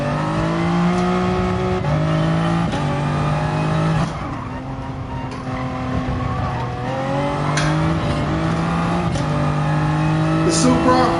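A Toyota Supra engine revs hard in Gran Turismo Sport, climbing through the gears in repeated rising pitch sweeps, with short dips at each shift and a faint tire squeal, loud and continuous.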